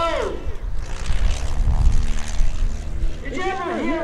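Stunt plane flying low over trees at the 2017 Greenwood Lake airshow during a comedy aerobatic act, its engine droning steadily throughout, loud and close, with an announcer talking over it.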